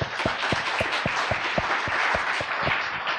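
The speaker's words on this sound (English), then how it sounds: "let's give a big, big round of applause for all the speakers before" Audience applause for the speakers rings out at an event, a sustained wash of clapping with some distinct rhythmic claps standing out, moderately loud and without talk.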